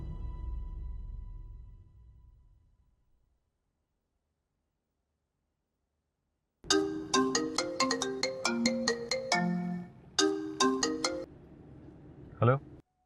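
A phone ringtone plays a bright, repeating melodic pattern for several seconds after a low rumble fades to silence, then cuts off abruptly.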